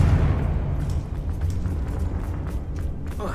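A Confringo blasting spell detonates in Hogwarts Legacy, a heavy booming explosion with a deep rumbling tail that lingers and slowly fades, with a short crackle near the end.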